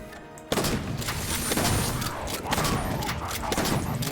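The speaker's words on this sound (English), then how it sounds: "Oh, the best shotgun ever." Rapid, dense shotgun blasts from a sci-fi video game erupt after a brief quiet start and continue loud and sustained, with mechanical clatter between shots.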